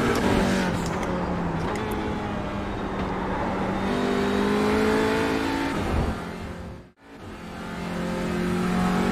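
An Audi RS3 LMS TCR race car lapping Brands Hatch, its engine loud and close, rising and falling through revs and gear changes, with one sharp break in the sound near the end.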